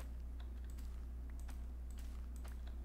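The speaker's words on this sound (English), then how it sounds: "Typing." Typing on a computer keyboard: scattered light clicks and taps of keys at an uneven pace over a steady low background hum.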